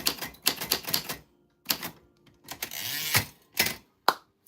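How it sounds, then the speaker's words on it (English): A typewriter clatters in fast bursts of sharp keystrokes separated by short pauses, with one longer run of rapid typing, then a final bell-like ding and carriage clack near the end. "You got on the typewriter, dang."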